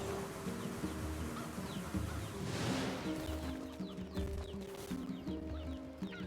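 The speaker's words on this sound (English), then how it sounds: "I'm definitely hearing chickens." Chickens cluck among the farm sounds of the video game NieR Replicant, their short repeated calls layered over a steady musical and ambient game background, with no talking.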